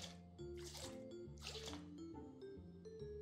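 In Bakery Simulator, water is poured for a bread dough in a few short splashing, dripping bursts over soft background game music, quiet and close.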